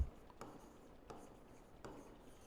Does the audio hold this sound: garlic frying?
no